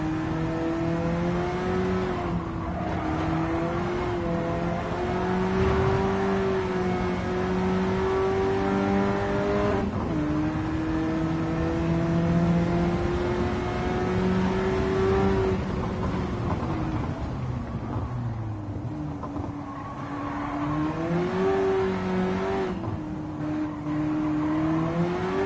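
A car engine in Gran Turismo 7, driven with a Fanatec gearbox, holds a steady droning rev that rises and falls as gears shift, with several clear pitch jumps across the run and no voices.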